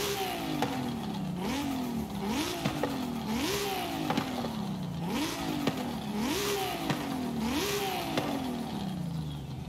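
A BMW M4 Coupe tuned to 1,270 horsepower in Forza Horizon 5 revs repeatedly, each rise climbing steeply then dropping back in a steady sawtooth rhythm, loud and continuous with nobody talking.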